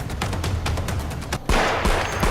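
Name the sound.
firecrackers bursting at celebration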